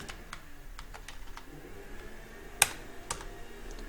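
Text is typed into a spreadsheet on a computer keyboard, with scattered quiet keystrokes and one sharper, louder key hit partway through.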